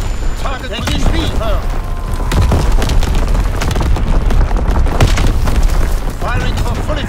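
Flak guns in Call of Duty WWII, in a 1944 Shipment domination match, boom repeatedly and heavily amid dense battle noise, under radio-style voice callouts.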